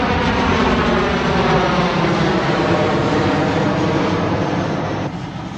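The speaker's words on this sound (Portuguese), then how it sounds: "E vai passar um avião aqui." A loud, continuous jet engine roar from an airplane passing low overhead, steady throughout and easing off slightly at the end.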